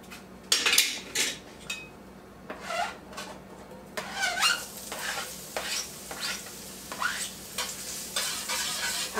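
Onions, garlic and frozen peas and carrots with a little corn sizzle in a pan for shrimp fried rice, with a spoon stirring and scraping through them in repeated bursts over a steady frying hiss, close and clear.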